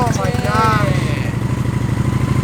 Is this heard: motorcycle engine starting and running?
yes